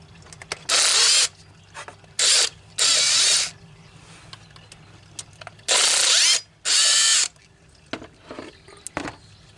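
A power ratchet whirs in five loud, close bursts as it backs out water pump screws on a 2011 Cadillac CTS4 3.6, with quieter clicks and handling noises in the gaps between runs.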